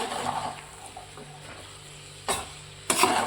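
Sabzi with freshly added carrots being stirred and mixed in a frying pan: soft scraping and a steady low sizzle, with a couple of louder clatters of the spoon against the pan near the end, no talking.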